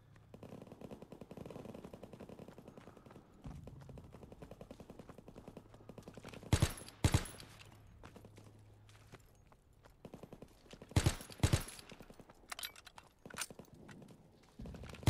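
Gunfire in a World War II prop hunt video game: a steady rattle of distant shots runs throughout, broken by two pairs of loud, sharp nearby bangs mid-clip and a final blast at the end.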